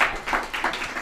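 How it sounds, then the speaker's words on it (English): An audience at the Winterfolk folk festival applauds, a dense, steady wash of many hands clapping at moderate distance. It continues without a break for the whole second. "A warm round of applause for Noah Zakarin."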